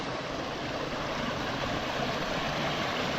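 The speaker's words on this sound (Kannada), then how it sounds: "ಪೂರ ಹಿಂಗೆ ಫಾಲ್ಸಲ್ಲಿ ನೀರು ಹರಿಯಾಕಿದ್ದೆ" A waterfall's flowing water, a constant loud broadband rush heard close up and unbroken for a few seconds, with no speech.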